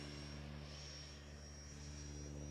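FMS 70mm F-16C Fighting Falcon RC EDF jet flying steadily on a calm day, giving a continuous, even electric ducted-fan whine with a strong low hum, loud and close throughout without breaks.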